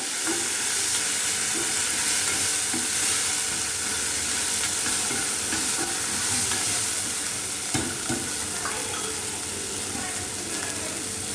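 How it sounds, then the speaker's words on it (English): Finely chopped tomatoes frying with light-brown onions in a pan, a steady close sizzle that lasts the whole time, with a few faint stirring scrapes and a voice talking now and then. "At this stage we'll add the finely chopped tomatoes. Let the tomatoes become mushy."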